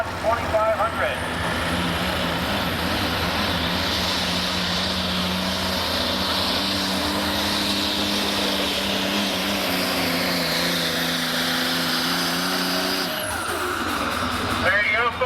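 At a truck pulling event, a 2010 Dodge 2500 street diesel truck roars under heavy load, its engine droning loudly and continuously as the pitch climbs before easing off near the end, with an announcer talking over it.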